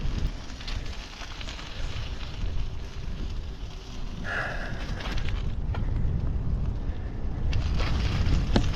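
A chilly crosswind buffets a cyclist riding west along a trail around Charlottetown, a continuous loud rumbling roar of wind noise that swells and eases without pause.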